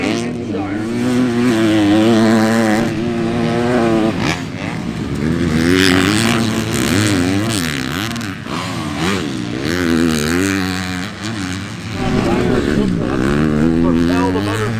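Motocross motorcycles race around the track at Fox Raceway, engines rising and falling in loud, rapid revving sweeps as bikes pass through bumps and jumps, while someone talks over the buzzing motors.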